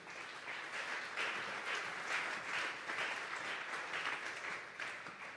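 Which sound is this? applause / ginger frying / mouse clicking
applause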